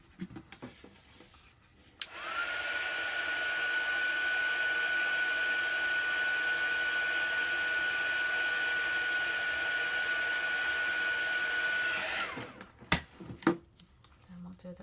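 A handheld heat dryer blows steadily on chalk paste over a Chalk Couture stencil transfer, a loud continuous whining hum for about ten seconds that starts and stops cleanly, followed by a few soft handling knocks.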